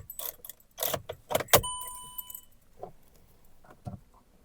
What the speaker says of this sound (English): So to connect, first I need to get to the ignition on stage, right? So let me turn on the ignition here.